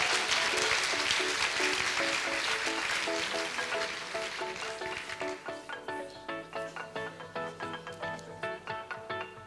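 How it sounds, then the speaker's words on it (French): An audience applauds a top graduate at a master's diploma ceremony, dense clapping that fades as rhythmic music with a steady beat takes over. "On peut applaudir Emma."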